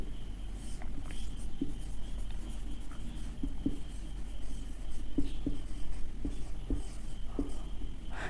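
Pen or marker writing out a geography lesson on types of maps, with soft scratching strokes and faint taps in an irregular rhythm over a steady low hum, close and quiet.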